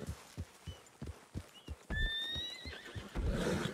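A horse in the Red Dead Redemption 2 video game, at a camp, clops its hooves in a steady rhythm before letting out a loud, close whinny partway through.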